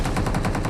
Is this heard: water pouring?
no